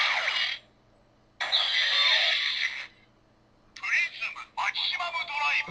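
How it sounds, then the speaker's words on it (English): A Kamen Rider Double DX Prism Bicker toy emits electronic slashing sound effects, three separate bright, harsh bursts of a couple of seconds each with short gaps between, heard up close. "it's got 3 slashing sounds"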